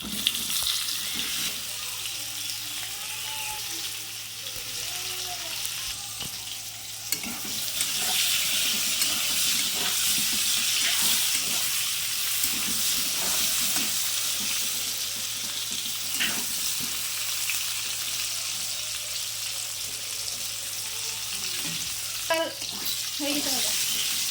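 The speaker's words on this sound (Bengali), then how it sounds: "প্রথমে পটল দিয়ে দিলাম পটলগুলোকে আমি লাল লাল করে ভেজে নেবো" Pieces of pointed gourd (potol) frying in hot oil give a steady, bright sizzle that runs nonstop, with occasional stirring clicks and faint background movement close by.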